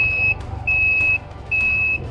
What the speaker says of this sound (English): Just hate that beeping sound.